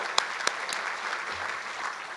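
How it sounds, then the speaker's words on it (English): Audience applause at a 2022 State of the City address: a short, steady burst of clapping from a crowd, with a couple of sharper claps standing out near the start. "Simultaneously, yes, that deserves applause too."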